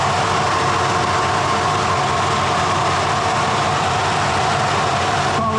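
A 1957 Chevrolet Bel Air engine fitted with shorty headers runs at a steady idle, giving a loud, continuous, even rumble that holds throughout with no voices.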